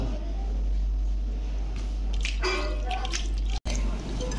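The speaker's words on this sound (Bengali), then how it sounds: "এবার আমি এতে একটু হলুদ দিয়ে ধুয়ে নেব।" Cleaned prawns washed in water with turmeric, soft splashing and dripping of water by hand, close and moderately quiet over a low steady hum.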